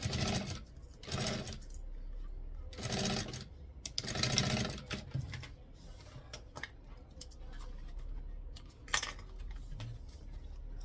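A sewing machine stitches a bag or necessaire in short bursts, each run of rapid stitching separated by pauses and small handling clicks, close and clear with no talk.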